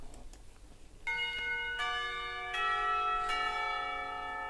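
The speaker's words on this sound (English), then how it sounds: "The clock tower bell rings." An old-fashioned clock tower bell strikes several times in slow succession, each clear metallic toll ringing out and overlapping the fading hum of the one before, moderately distant and alone.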